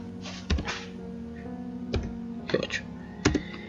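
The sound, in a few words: typing keys on a computer keyboard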